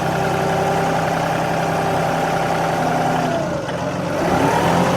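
A tractor fitted with a front end loader back drags, its engine running steadily and loud throughout with a slight dip in load near the end, no voices over it.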